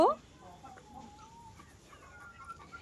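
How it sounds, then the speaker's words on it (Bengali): Chickens give soft, scattered clucks and short calls at moderate distance, with faint murmured talk in the background and quiet ambient noise between them. "কক কক কক কক বলে দিছে, কক কক"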